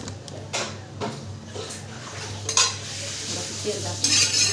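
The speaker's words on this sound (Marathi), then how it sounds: "तवा गरम झालाय, तेल टाकले, थोडंसं लावले तव्याला आणि आता डोसे बनवते" Oil sizzling on a hot griddle before dosas are poured: a steady soft hiss with occasional scrapes and clinks of a utensil against the pan, close by.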